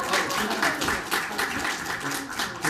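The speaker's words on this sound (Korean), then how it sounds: "박수 부탁드립니다." An audience at a university graduate orientation ceremony claps continuously in a dense, even wash of applause through the whole moment, with a faint voice mixed underneath.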